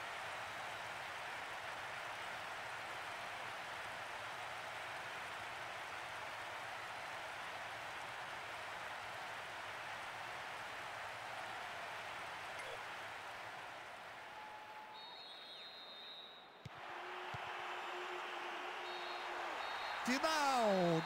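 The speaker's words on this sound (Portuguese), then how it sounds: "E a torcida não para de gritar." Stadium crowd in the PES 2021 football video game keeps up a steady, dense roar across the whole stretch, briefly dipping before swelling louder again near the end, with a few thin tonal effects layered over the noise.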